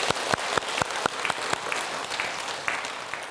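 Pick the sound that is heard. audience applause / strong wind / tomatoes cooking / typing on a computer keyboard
audience applause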